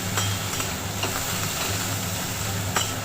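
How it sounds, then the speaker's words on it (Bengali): Snake gourd fries in a pan with a steady hiss and sizzle. Occasional faint stirring clicks break through, and a low background hum sits underneath without speech. "ভাজা হচ্ছে দেখুন।"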